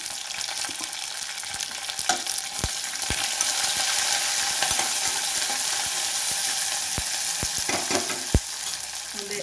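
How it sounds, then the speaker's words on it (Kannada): Crushed garlic and onion fry in a pan for mango chutney, giving a steady close sizzle broken by scattered sharp clicks and scrapes of a spoon against the pan. "ಬೆಳ್ಳುಳ್ಳಿ ಸ್ವಲ್ಪ ಜಜ್ಜಿ ಮಾಡ್ಕೊಂಡಿದ್ದೀನಿ. ಇದು ಹಾಕ್ಕೊತಾ ಇದ್ದೀನಿ."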